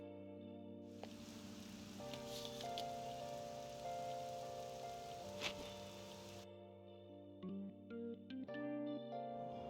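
Steady rain hiss in the video game Persona 5 Royal on a rainy morning, falling continuously under a soft melodic music track before cutting off abruptly, with the music carrying on alone afterward.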